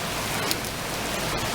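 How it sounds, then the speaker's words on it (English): Light rain falling in Westfield, Massachusetts, a soft, steady patter of drops on surfaces, continuous and fairly faint, with no voices. "it's starting to rain a little bit"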